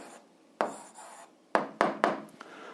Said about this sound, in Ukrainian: А зараз записуємо відповідь, пишемо відповідь.